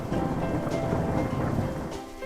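Rain falls steadily with low, rolling thunder rumbling underneath, a continuous storm wash at moderate level with no voices.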